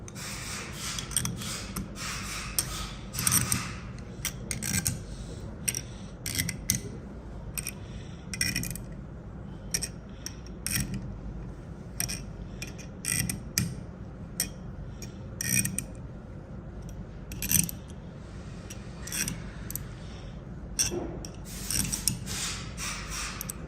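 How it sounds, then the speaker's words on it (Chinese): Screws being tightened on a PEEK split cell in a lab press for solid-state lithium battery work, giving a steady run of small metallic clicks and ratcheting ticks over a low hum, close and moderately loud, with no talk. "现在我们紧螺丝，然后呢，这边压力就显示了"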